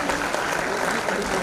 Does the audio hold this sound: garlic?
no